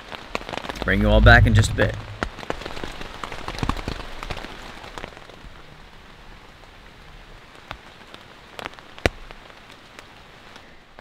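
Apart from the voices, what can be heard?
steady rain falling on a military tent at night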